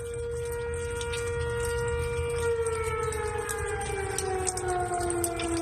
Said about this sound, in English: that's the tornado sirens that were going off just a short time ago in Canadian Shores, Oklahoma